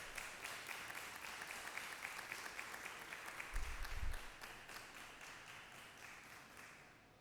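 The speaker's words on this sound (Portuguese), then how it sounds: "Vamos recebê-los aqui com uma salva de palmas," An audience claps at a solemn honor-diploma ceremony, a faint, steady patter of applause heard from a distance that holds throughout and slowly thins out.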